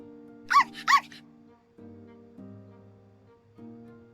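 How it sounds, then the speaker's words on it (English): A small dog in a video game barks twice in quick excited succession, close and clear, followed by quiet musical background tones. "Ollie starts barking out in excitement when she hears Celestine's name."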